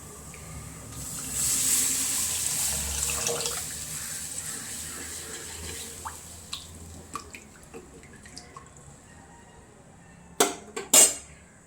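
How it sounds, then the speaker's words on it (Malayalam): Water for boiling eggs pours and splashes into a cooking pan with a rushing hiss, then settles into a few scattered drips and small knocks. "ഈ സമയത്ത് നമുക്ക് കുറച്ച് വെള്ളം ഒഴിച്ചു കൊടുക്കാം"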